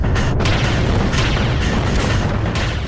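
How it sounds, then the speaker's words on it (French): Cannon fire pounding a walled city under siege, Famagusta in spring 1571: a dense, continuous roar of booms and blasts, loud and close, with no voices. "Les canons pilonnent la ville"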